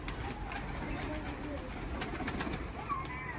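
Street pigeons coo softly in an urban setting, low repeated calls over steady background noise, with someone talking nearby through much of it.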